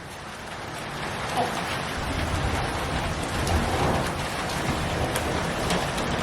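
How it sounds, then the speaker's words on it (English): A thunderstorm with steady heavy rain drumming on surfaces, deep rolling thunder rumbling beneath, continuous and fairly close throughout. "I honestly hate the sound of thunder."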